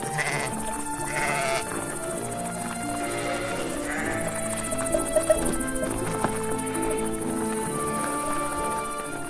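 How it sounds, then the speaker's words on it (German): Sheep and goats grazing on open pasture, several animals bleating in repeated calls at moderate distance over a continuous background bed, with faint hoof-like clatter. "Schafe und Ziegen fressen die Gräser und Kräuter."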